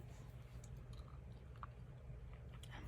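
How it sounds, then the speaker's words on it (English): Gum is chewed softly and close up in a quiet room, with faint, irregular wet smacks over a low steady background hum. "I'm also going to be chewing some gum while I show you."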